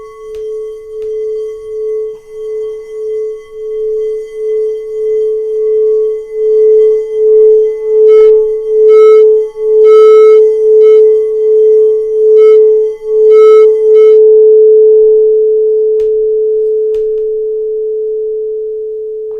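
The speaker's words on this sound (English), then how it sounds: "I have this crystal healing bowl. And I just wanted to tap it and let it sing for just a second." A crystal singing bowl, struck once, rings with a steady, pure sustained tone that pulses gently at first, swells louder, then holds and slowly fades, heard alone with no talking.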